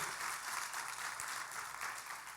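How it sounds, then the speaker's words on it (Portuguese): A church congregation applauds the Lord during a sermon, a faint but steady wash of many hands clapping, heard from a distance with no voices over it. "Dê um aplauso ao Senhor bem forte"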